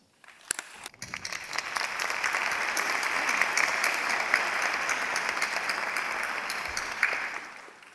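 Sustained applause from a large commencement crowd at a Texas A&M University graduation, honoring the graduates' families, swelling quickly after a brief start and holding steady for several seconds.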